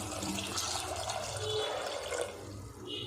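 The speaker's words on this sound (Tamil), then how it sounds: "கூடவே உருளைக்கிழங்கு வேக வைக்கிறதுக்கு தேவையான அளவுக்கு தண்ணி" Water poured from a vessel into a pressure cooker holding potatoes, turmeric and salt, a soft continuous splashing and trickling fill, fairly quiet and close, with no talk.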